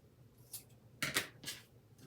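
Scissors cutting craft material for a handmade gnome ornament: a few close, crisp snips in quick succession, with a short pause before the last, in a quiet room.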